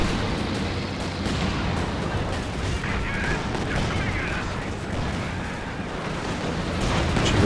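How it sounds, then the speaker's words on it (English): Nebelwerfer rocket artillery fires during a 2v2 Company of Heroes 2 match: a dense, continuous roar of launches and blasts that never lets up, with a voice talking over the battle. "Rockets missing. Another Werfer."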